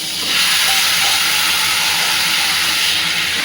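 Loud, steady sizzling and hissing from a pan of cooked fish being tempered with spices, a continuous frying roar close by with no talk.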